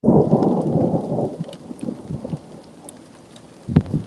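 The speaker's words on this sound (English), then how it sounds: "Okay, definitely heard the thunder there." Distant thunder rolls as a low, rumbling swell that fades over a few seconds, with rain pattering in the background and a brief rumble returning near the end, no talking.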